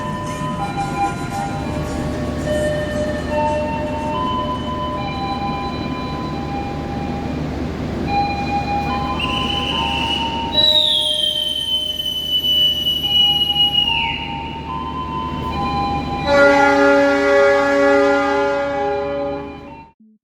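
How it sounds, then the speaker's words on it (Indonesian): The Sembrani passenger train rumbles steadily as it pulls away from Surabaya Pasar Turi station, with long metallic wheel squeals and high screeches sliding over the low rolling noise, growing louder near the end. "Kereta api Sembrani baru saja berangkat dari stasiun Surabaya Pasar Turi."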